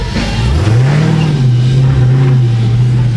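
A Hellcat car engine drones loudly and steadily downtown, its pitch rising then holding high as it revs, continuous throughout with no talking.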